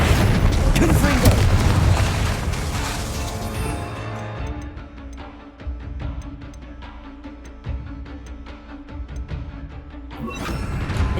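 A loud booming blast from the Confringo spell in the Hogwarts Legacy video game, a heavy rumbling explosion at the start that fades into scattered crackles and clicks, with a second burst near the end.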